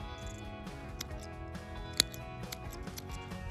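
Scissors snipping while thinning carrot seedlings in an outdoor Newfoundland garden bed, a few faint, quick clicks, one sharper than the rest, over a quiet background.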